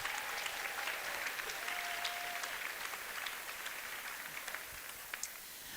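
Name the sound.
applause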